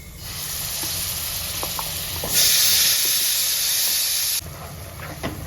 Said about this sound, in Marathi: कढई ठेवली आणि तेल टाकणार आहे कढईमध्ये थोडस मसाला टाकून घ्यायचा हा सगळा हिरवा